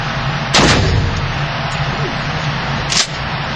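Two loud shotgun blasts at an outdoor shooting range, one early and one near the end, each a sharp broadband crack over steady background rumble.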